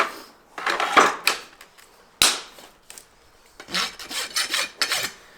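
A farrier files the nail clinches on a shod eventing horse's hoof smooth with a rasp, scraping in short, bright strokes that come in quick bursts, close by, with a sharp metallic tap between them.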